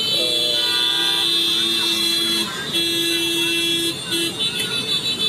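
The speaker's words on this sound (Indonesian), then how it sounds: "klakson" A car horn blares in long sustained honks, then a short toot, over loud steady traffic and crowd noise at a student protest blockade on Jalan Urip Sumoharjo, Makassar.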